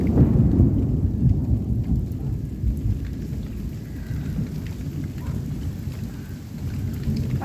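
A heavy hometown thunderstorm: dense, steady rain pouring on surfaces with low, rolling thunder rumbling throughout, loud and close with no voices.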